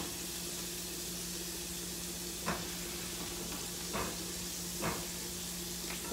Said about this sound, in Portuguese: Ai, eu adoro esse cheirinho de alho fritando.